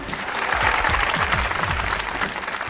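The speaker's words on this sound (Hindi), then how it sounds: "तालियां।" Studio audience at a comedy talk show breaks into applause, loud dense clapping mixed with low rhythmic beats from the show's music underneath.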